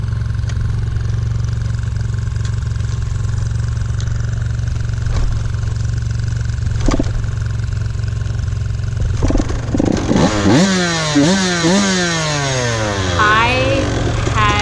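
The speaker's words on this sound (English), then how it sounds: "Another thing with the 85 SX and the 105 SX is kickstarting." An 85 SX or 105 SX two-stroke dirt bike is kicked over repeatedly with a steady idle drone in the background, then the engine catches and revs in sharp, rising bursts, loud and close.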